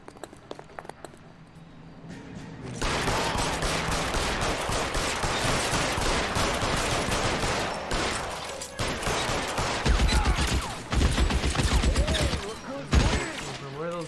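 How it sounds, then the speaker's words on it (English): Intense gunfire during a shootout in the L.A. Noire game, starting with a few scattered shots before erupting into sustained loud volleys and rapid bursts, with shouted voices mixed in among the shooting. "Where are those bullets come from?"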